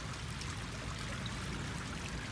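Seawater surging over a seawall and flooding a street corner during a typhoon, a steady broadband rushing wash close by with no pauses and no voices.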